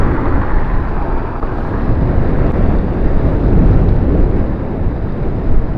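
Strong wind buffets the microphone in a continuous low, roaring rumble that surges slightly without letting up.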